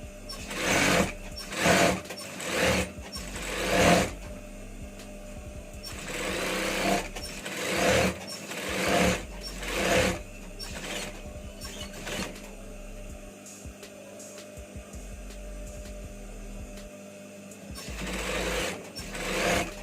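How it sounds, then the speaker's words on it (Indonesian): A sewing machine stitches the front panel of a garment in quick repeated bursts, each run of rapid needle clatter stopping and starting again, close and clear with brief pauses between. "Selanjutnya kita jahit untuk bagian depannya ya."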